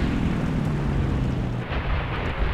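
A fighter plane's kamikaze crash in a War Thunder air battle: a dense, continuous low roar of explosion and rumbling engine noise, loud and close throughout with no voices.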